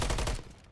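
A video game gun fires a short, loud, rapid burst of shots up close, then the blasts cut off and a fading tail rings out.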